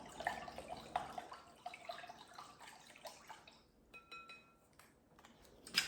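Fertilizer chemical being stirred into a container of water for seedlings, soft close sloshing and swirling with a few light clinks and drips, quiet and without talk.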